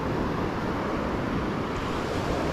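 Steady wash of surf breaking on the beach at Cala Llentia, Ibiza, a continuous broadband rush without pauses, with some wind buffeting the microphone.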